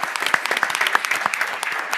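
Audience applause at a school board of education meeting for school staff, a brief burst of many hands clapping indoors, dense and steady, with no voices over it.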